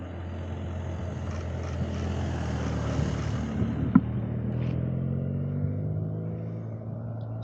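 Porsche cars driving on the Stelvio Pass on the Bormio side, a steady engine rumble that builds as a car approaches and then changes pitch as it passes, heard fairly close with no talking.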